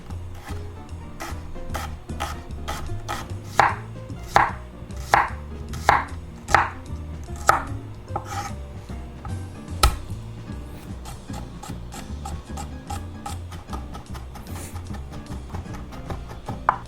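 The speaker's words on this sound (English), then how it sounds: "We're going to slice 6 shallots thinly, and then we're going to mince 4 cloves of garlic." A kitchen knife slices shallots and minces garlic on a cutting board, giving a steady run of crisp chopping taps with a few louder strikes, close by and with no talk.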